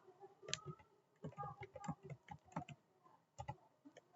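Computer keyboard keys clicking in short irregular bursts while a router command is entered, close and moderately loud, with a voice talking between and over the keystrokes.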